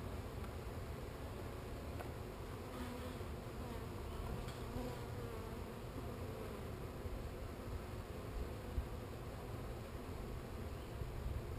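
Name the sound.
honey bees buzzing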